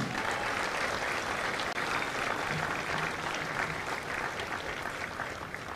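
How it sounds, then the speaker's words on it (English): Sustained applause from a crowd honoring the families of Company G at a Marine recruit graduation parade, steady and dense throughout, with faint voices mixed underneath. "a round of applause for the families of Company G"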